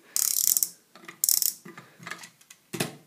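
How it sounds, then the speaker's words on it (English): A wooden Brio toy train crane being cranked by hand, giving several short bursts of close, crisp ratcheting clicks separated by brief pauses, with no voices. "Now, my 2 absolutely love how this crane works, and you can crank it up again"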